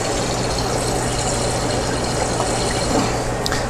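Water runs steadily into an aquarium tank in a fish room, a dense, even rush of splashing noise over a low mechanical hum, constant throughout with no talk.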